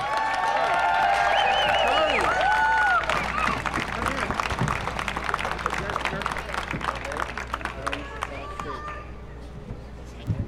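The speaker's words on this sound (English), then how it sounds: "so let's give him a big cheer." A large crowd at a Relay For Life closing ceremony in Tacoma cheers and claps loudly, dense applause peaking at first and then easing into a steady patter of hand claps with scattered whoops.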